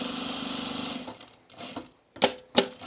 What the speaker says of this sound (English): I'm just going to sew this on here.